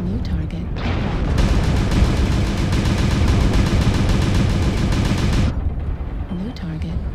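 Mech weapons in MechWarrior Online fire in a dense, rapid volley at enemy mechs, loud and close, a sustained stream of repeated shots for several seconds before cutting off, with speech faintly around it.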